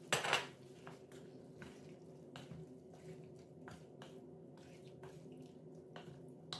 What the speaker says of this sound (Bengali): এবার দিয়ে দিব কলিজা দিয়ে ভালোভাবে মশলার সাথে মিশিয়ে নিব।